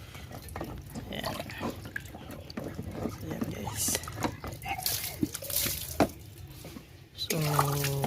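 Water is changed in a glass jar holding an avocado seed, producing pouring, dripping and splashing sounds with small clinks, while a person talks over it and a louder, steadier pour comes at the end.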